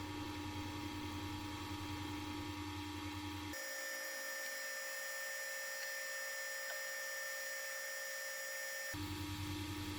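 A tiny 0.2 mm drill bores into brass rod while a rusty Jaeger-LeCoultre triple calendar watch is restored, giving a steady, close mechanical whine with faint tonal hum for several seconds and no talking.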